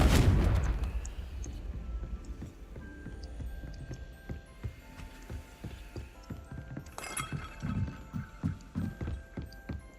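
A Confringo fire spell goes off in Hogwarts Legacy, a sudden loud blast at the start that rumbles and fades, followed by thuds and scattered impacts, with a second swelling burst later.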